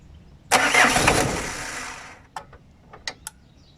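A 1.9 diesel engine with a starting problem cranks with a loud churning whir for about a second and a half, then fades, followed by a few sharp, separate clicks.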